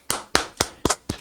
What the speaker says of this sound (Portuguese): bato palmas pela sua fala aqui